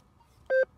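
A Rutus Argo NE metal detector gives one short, clean electronic beep, a brief two-tone signal over quiet low background hiss.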